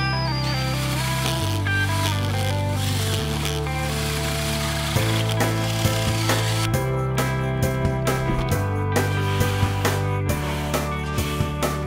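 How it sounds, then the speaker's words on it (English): A drill fitted with a 2-inch brad point bit runs while boring holes in wood for a TV lift cabinet, a steady loud droning whine with shifting tones throughout and sharp clicks and knocks toward the end. "You may have noticed that the drill is making kind of a funny sound"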